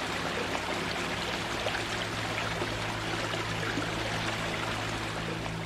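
Water draining away in the survival horror game Tormented Souls: a steady, moderately loud rushing and trickling flow with a low hum beneath it, continuous and unbroken, with no voices.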